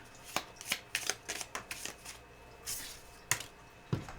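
Small Lenormand cards are shuffled by hand in a quiet room, a run of soft papery riffles and slaps in an uneven rhythm, close and fairly faint, with no talking.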